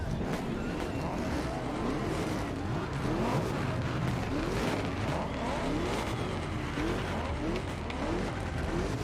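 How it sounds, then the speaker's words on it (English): A Ford Mustang GT engine roars steadily in The Crew Motorfest racing game, a loud continuous drone with repeated rising revs through the gears and hints of tire noise, no talk. "Why does that sound like it's got a supercharger on it?"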